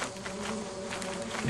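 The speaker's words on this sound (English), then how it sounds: "Bees." A swarm of bees in the video game Lethal Company gives off a dense, continuous buzzing hum close by, while a voice speaks briefly over it.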